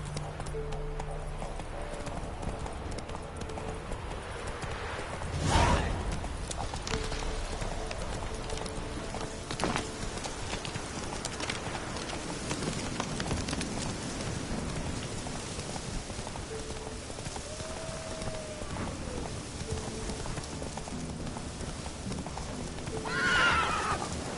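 Roach, the horse in the video game Witcher 3, gallops with steady hoofbeats and a whinny over constant rain, while game sounds and brief voices come through now and then.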